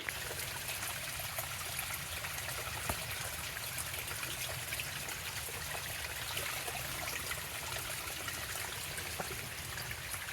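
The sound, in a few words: stream of water trickling near a mine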